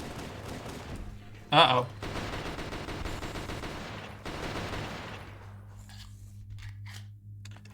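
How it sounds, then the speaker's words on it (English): Gunfire in Halo from a mod map, with a sharp loud burst followed by several seconds of dense rattling automatic fire that cuts off and fades to quiet, as a voice briefly reacts. "I think that was actually somebody returning fire"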